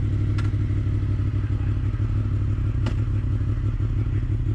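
Motorcycle engine running steadily at speed with constant low rumble and heavy wind buffeting, a couple of brief clicks or clatters, no talk.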